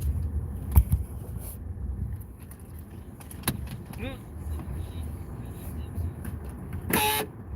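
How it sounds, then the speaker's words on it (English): A short electronic car horn chirp, triggered by the car door opening, sounds near the end after a door thud, over background vehicle noise and distant voices. "That's my car door. It honks at me."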